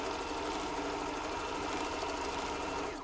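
Sewing machine running steadily while stitching a fabric face mask headband, a continuous close motor whir and needle chatter throughout, slowing at the very end.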